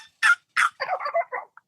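A man imitates a turkey with his voice, giving two sharp high notes followed by a run of quick, choppy yelps that taper off, close and clear with no other sounds.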